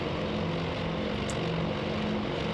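Propeller engines of 27 scrambled fighter planes in the Task Force Admiral naval game, Battle of Midway, forming a steady, dense droning roar with a low tonal hum, continuous throughout at moderate level.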